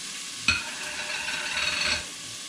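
Ingredients gently sweating in a pan over low heat while cooking bucatini all'amatriciana, starting with a sharp clatter as they hit the pan and then settling into a soft, steady sizzle that fades after about two seconds.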